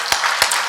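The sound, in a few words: congregation applauding in welcome at a church service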